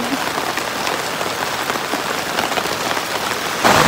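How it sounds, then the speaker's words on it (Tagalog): Heavy rain pours down steadily in Kota Kinabalu, Malaysia, a dense continuous hiss that suddenly swells louder near the end. "Biglang lumakas yung ulan."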